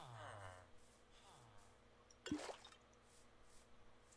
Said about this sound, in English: When I turn off the friendly creature noise, it stops the water bottles filling noise.